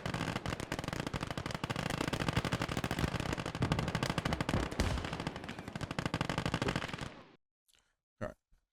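Sustained machine gun fire and rapid gunshots from the World War II strategy game Gates of Hell, loud and dense for about seven seconds, then cutting off to near silence with a couple of faint isolated thuds.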